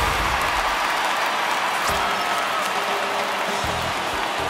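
Home crowd roars continuously in a baseball video game, MLB The Show 19, with the Phillies at home against the Brewers, a loud, dense, sustained stadium cheer with no talk over it.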